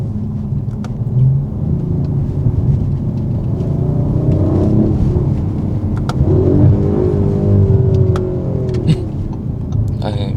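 An Audi RS 5 Sportback, a 450-horsepower 2.9-litre car, accelerates hard through its gears. A steady, loud engine rumble fills the cabin, with brief dips and rises in tone as the transmission shifts.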